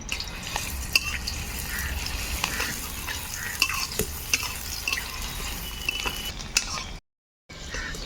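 Chopped onion fries in hot mustard oil in a wok, a soft continuous sizzle with scattered stirring clicks and scrapes, close and fairly quiet, with a brief dropout near the end.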